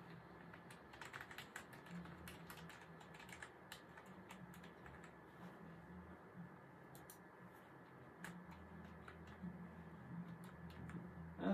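Rapid keypresses on the number pad of a Tech1 Keyboard X gamer RGB keyboard, quiet clustered clicks in irregular bursts over a soft background hum, with no talking.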